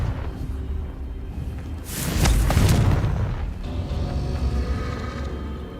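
A Confringo fire spell blast cast in the Hogwarts Legacy video game, a loud booming burst with a rumbling tail over steady game ambience.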